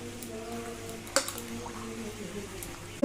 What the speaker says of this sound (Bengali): এগুলোকে হাতে ভালো করে মেখে নেব।